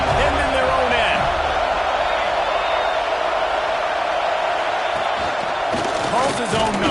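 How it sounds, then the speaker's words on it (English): Crowd roaring at an American football game, a dense, loud, steady roar lasting several seconds with a swell of cheering near the end, while a commentator talks over it. "The roar of the crowd trying to fuel this defense to keep them pinned in their own end."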